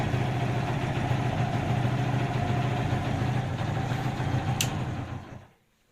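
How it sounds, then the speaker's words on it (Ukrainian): Small moped engine, freshly adjusted at the carburetor and Hall sensor, runs at a steady close idle with an even, buzzy putter for about five seconds, then cuts out abruptly into quiet. "підвів датчик хола і зараз легенько чітко заводиться, як має бути"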